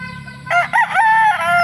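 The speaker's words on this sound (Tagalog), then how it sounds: "Ayan, gandang manok pa." A rooster crows once, loud and close, a drawn-out cock-a-doodle-doo lasting about a second.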